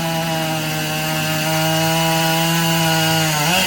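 A chainsaw at a lumberjack competition cuts through timber at a steady high pitch, loud, close and continuous, then dips slightly in pitch near the end as it finishes the upcut, and no voices.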